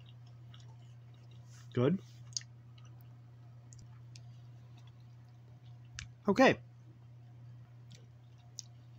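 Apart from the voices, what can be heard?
chewing Fruit Stripe gummy candy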